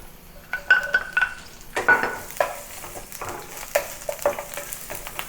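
Ginger and garlic sizzle in hot oil in a pan for a Cantonese steamed fish sauce, with a steady frying hiss under repeated close scrapes and taps of a utensil against the pan.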